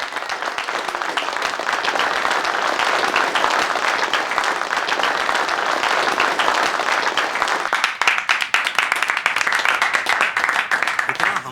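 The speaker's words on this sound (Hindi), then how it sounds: "उत्कर्ष शर्मा के लिए एक बार जोरदार ताली चाहिए" Audience applause at a Bollywood party celebrating the film Gadar 2, loud, continuous clapping from a large crowd lasting over ten seconds, with voices talking over it.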